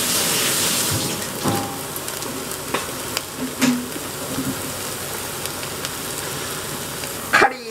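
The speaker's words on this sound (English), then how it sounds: "Now we fry it." Tempura pieces fry in hot oil with a steady, close crackling sizzle, broken by a few small pops and a sharper clatter near the end.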